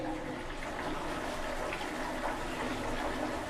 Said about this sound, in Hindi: पूरा फ्लश करो।